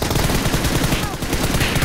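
Rapid, loud automatic rifle fire from an ACE32 in PUBG Mobile, a continuous close-up spray of shots filling the short stretch without a break.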